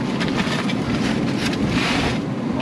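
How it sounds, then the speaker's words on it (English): Strong outdoor wind gusts across the microphone at a backyard barbecue where sticky Chinese ribs are being cooked, a loud, steady roar with broadband rumble lasting throughout, no voices. "that wind"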